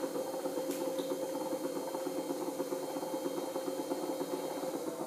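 An electric pottery wheel spins steadily, giving off a continuous mid-pitched motor hum with a faint rhythmic flutter, close and unbroken, with no talking.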